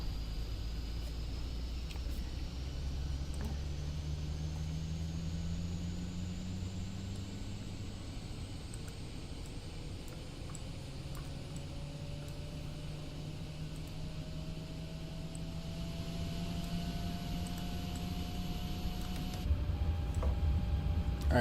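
Boeing 737 MAX engines spooling up in Microsoft Flight Simulator 2020: a steady turbine roar with a whine that rises slowly in pitch over about twenty seconds, plus a high hiss and faint cockpit clicks.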